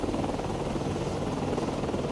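A helicopter in the submarine game Cold Waters gives off a steady, dense rotor and engine roar that fills the whole clip at an even, fairly close level, with no talk over it.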